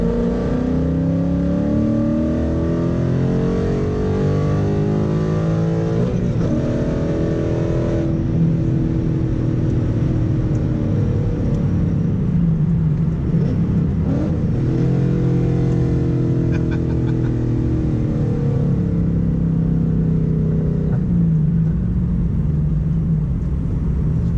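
A 2018-2019 Ford Mustang GT V8 with headers, active exhaust, intake and tune revs and accelerates through the gears, a loud, continuous rumbling roar that rises and falls in pitch, with no talk.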